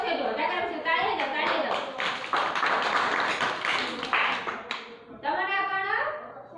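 Children clapping hands together during a classroom game activity, a run of quick sharp claps over several seconds mixed with voices talking and chanting.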